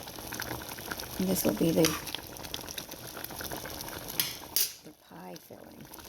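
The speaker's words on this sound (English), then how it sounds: "You put it on low, let this simmer, cover it, and just keep stirring every once in a while." Chicken pot pie filling simmers in a pot on low heat, a soft bubbling texture broken by a few clinks of a spoon stirring, while a person talks over it.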